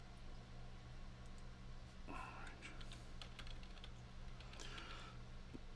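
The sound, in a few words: typing on a computer keyboard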